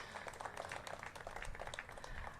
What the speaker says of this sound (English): So give Anita Bonds a big round of applause